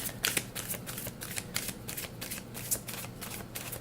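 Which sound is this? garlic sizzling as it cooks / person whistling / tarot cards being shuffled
tarot cards being shuffled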